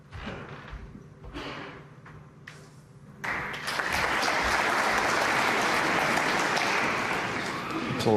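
Snooker audience applauding at the Northern Ireland Open 2024 final between Judd Trump and Kyren Wilson, a few scattered claps swelling into sustained, dense clapping that fills the arena and holds steady.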